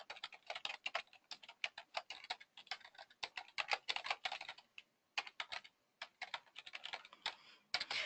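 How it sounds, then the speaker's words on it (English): Quick, close clicking of keys on a computer keyboard in uneven bursts with short pauses, crisp and fairly quiet, with no voices. "you can just start typing right here."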